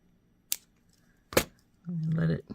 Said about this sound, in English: we're going to cut the extra line off right here